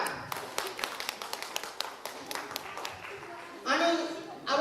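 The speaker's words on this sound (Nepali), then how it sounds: "उहाँलाई हामी स्वागत गर्नेछौँ ताली बजाएर।" At a Christmas gathering of a Nepali church in Pittsburgh, the congregation claps to welcome Pastor David James, a steady run of quick, even hand claps that is then overtaken by a speaking voice.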